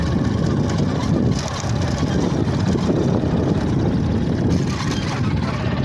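Steady, loud motorcycle engine drone with rushing wind noise, continuous throughout as heard while riding.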